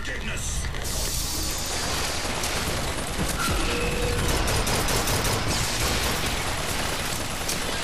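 Sustained rapid gunfire in the shooter game Bioshock Infinite, dense mechanical clatter and bursts of shots running continuously at close range, with voices heard faintly amid the firing.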